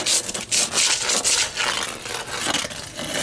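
An old piece of brick rubs and scrapes across a high spot on a concrete house foundation during repair, a close, steady gritty rasping in repeated back-and-forth strokes with no talk.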